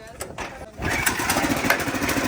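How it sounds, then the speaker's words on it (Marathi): A tractor engine cranks and catches partway through, then settles into a steady, loud, rough running rumble close by. "मी त्याला ट्रॅक्टर चालू करून देतो"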